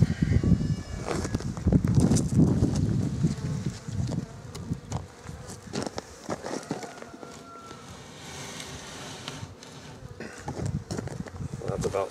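Bees swarm and buzz around a beehive as it is shifted a few inches to a new spot, a steady insect drone close by with shuffling and handling knocks throughout.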